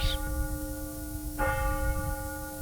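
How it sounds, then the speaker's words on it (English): A church bell rings in a sleepy small town, two resonant strikes about a second and a half apart, each leaving a long humming tone that lingers under quiet ambience. "A church bell rings."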